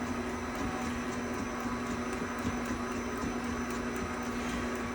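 An electric stand mixer runs steadily through batter for pumpkin oatmeal cream pies, giving off a constant motor hum with a faint rhythmic whir close by and nobody talking.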